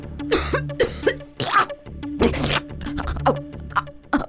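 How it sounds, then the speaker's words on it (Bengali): Repeated harsh coughing fits, close and loud, in several bursts with short gaps, some sounding like throat clearing. "হঠাৎ কাশতে শুরু করল।"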